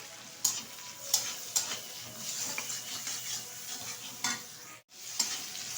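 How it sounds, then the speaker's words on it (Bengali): Tomato, green chilli and turmeric frying in a pan for an egg curry, a steady close sizzle broken by several sharp scraping stirs of a spatula, with no voices. "ভালোভাবে একটু নেড়ে চেড়ে নিয়েছি। আর খুব সুন্দরভাবে কিন্তু ভাজা হয়ে গেছে"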